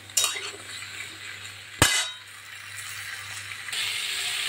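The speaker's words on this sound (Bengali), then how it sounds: "সবজিগুলো খুব ভালো করে ভেজে নিয়েছি" Vegetables fry in a pan with a continuous close sizzle, broken by one sharp metal clank of a spoon against the pan.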